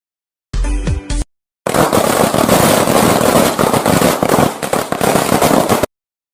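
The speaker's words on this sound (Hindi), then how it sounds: "सुहाना चिड़िया की सारी सहेलियां आतिशबाजी करती हैं और पटाखे फोड़ती हैं" A short rising whistle and bang, then a dense stretch of rapid firecracker pops and crackles, loud and continuous before stopping abruptly.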